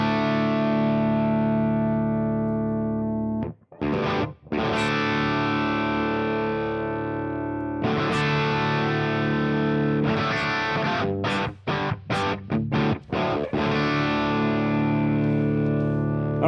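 Electric guitar through the Mercuriall AmpBox Tweed amp simulator, a long stretch of distorted chords and riffs with brief stops and choppy strummed hits, loud and near with no talking.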